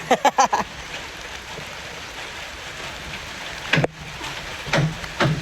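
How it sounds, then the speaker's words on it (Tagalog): Rain falls steadily at a farm as a soft, even hiss across the whole stretch, with a few louder knocks and bumps rising up close at the start and end. "Nag-ulan."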